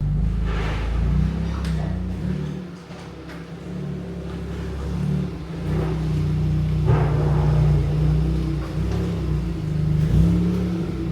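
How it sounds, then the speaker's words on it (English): A car is driven into a garage workshop, its engine rumbling close by with low steady revving that swells and dips over several seconds. "let's pull the car in and get it fitted on"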